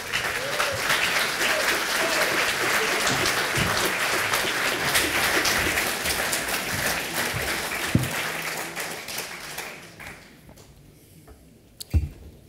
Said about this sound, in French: Je vous demande d'applaudir François Bousquet